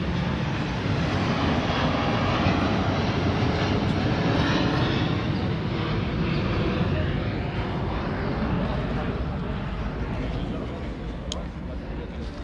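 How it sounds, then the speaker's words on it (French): A propeller or jet airplane passes over an outdoor town square near a town hall, a loud steady engine roar filling the whole stretch, with voices talking faintly beneath it. "Les avions, ça fait beaucoup de bruit."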